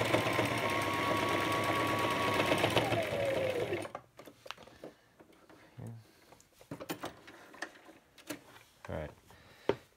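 Sewing machine running steadily and loudly for about four seconds while stitching seam to seam along the sides of a military uniform, then stopping, followed by quieter handling clicks and soft thumps.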